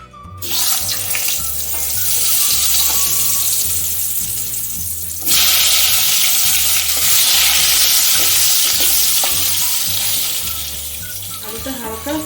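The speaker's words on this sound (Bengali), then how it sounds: "আলুটা হালকা ভেজে নিতে হবে" Potatoes frying in oil with whole cumin and bay leaf, a loud continuous sizzle that surges midway as more goes into the pan, with background music throughout.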